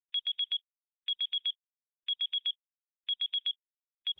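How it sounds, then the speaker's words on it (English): An AirPods Pro 2nd generation charging case alert: a soft electronic chime repeats in groups of four quick high beeps, each group about a second apart, clean and isolated. "there's a new sound for the cases on the AirPods Pro 2nd generation"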